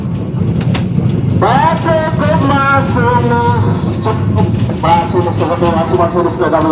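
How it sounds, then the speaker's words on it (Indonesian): A Dharmawangsa passenger train pulls into Tanjung station and comes to a stop, its steady rumble running throughout beneath people talking. "Pukul 12:34 kereta api Dharma Wangsa masuk dan berhenti di stasiun Tanjung"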